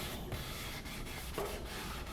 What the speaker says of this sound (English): Sand it very, very lightly in between coats.